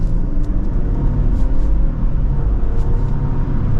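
A 2023 Lexus LX600 Luxury accelerating into second gear, heard from inside the cabin as a loud, steady low engine rumble with road roar that holds constant throughout.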